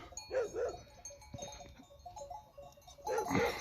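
Goats and sheep bleat faintly in short calls, one pair early and another near the end, over quiet outdoor background.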